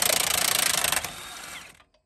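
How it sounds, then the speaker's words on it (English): An impact wrench rattles in a fast, loud burst for about a second while removing a bolt from a Lippert torsion axle on an r-pod trailer, then spins down briefly and stops. "Throw the impact on here"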